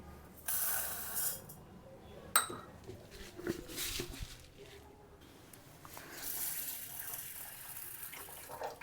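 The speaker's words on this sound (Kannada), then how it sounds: "ಚೆನ್ನಾಗಿ ಒಂದು 4-5 ಸಲ ತೊಳೆದ್ಬಿಟ್ಟು ಬೇಯೋದಕ್ಕೆ ಇಡ್ತೀನಿ" Water runs from a tap and swishes in a bowl in short bursts as pigeon pea lentils (toor dal) are washed, with a clink of a vessel partway through, in a quiet room.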